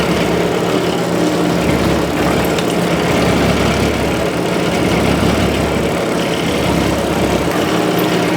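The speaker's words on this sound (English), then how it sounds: "So now I can go ahead and drill the rest of these holes." A power drill runs continuously while boring holes in an amplifier chassis, a loud, steady motor whine that holds without a break from start to finish.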